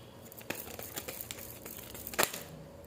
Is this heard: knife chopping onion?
no